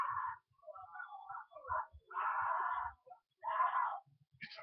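A person screams and wails in The Walking Dead video game, in several strained, distressed bursts separated by short pauses, with faint thuds underneath.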